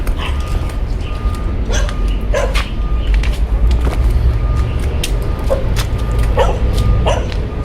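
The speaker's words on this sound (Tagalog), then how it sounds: "may aso" A dog barks several times in short bursts, at a steady distance, over a constant low rumble of background noise during a night ghost-hunting outing.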